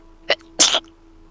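A woman sneezes twice, a short first burst followed by a longer, louder second sneeze, close and clear with no talking.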